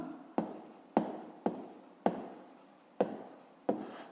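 A math solution written by hand, with six distinct strokes of pen or pencil on paper, each a short scratch fading away, spaced about half a second apart, close and quiet.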